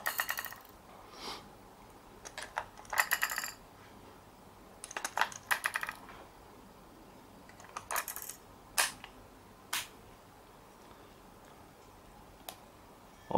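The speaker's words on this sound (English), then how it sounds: "Now unplug the cable and re-put the batteries" Batteries being put back into a Godox TT685 speedlite, a series of sharp plastic clicks and taps in irregular bursts, close and fairly faint.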